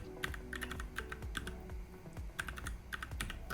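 Rapid clicking of a computer keyboard as a file name is typed, irregular clusters of close, crisp keystrokes with short pauses and no voices.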